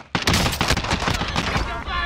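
A close, loud burst of rapid automatic gunfire in the Warzone video game, rattling continuously for about two seconds.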